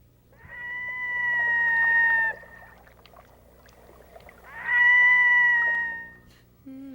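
A red-throated loon gives two drawn-out, eerie wailing calls separated by a pause, clear and fairly close over a quiet background.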